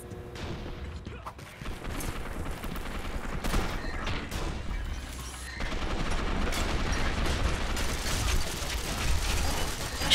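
Gunfire in the video game Gotham City Impostors, including shotgun blasts, comes as sharp bursts and clatter over a dense, noisy game mix, with voices talking at times.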